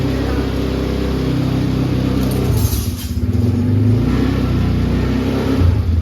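An army-coloured ATV quad bike engine runs and revs close by, a loud continuous growl that rises and dips with throttle, with no talk over it.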